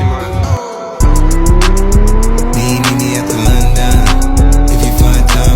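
A Liberty Walk Lamborghini Aventador revs loudly at close range, its engine note climbing and holding, while sharp exhaust pops and crackles from the flame-shooting exhaust burst out in quick succession.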